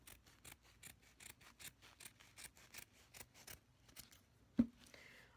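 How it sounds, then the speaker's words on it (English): Scissors cut straight down through material for a DIY lollipop hair clip in a steady run of soft, close snips, ending with one sharper click. "I'm just going to cut straight down."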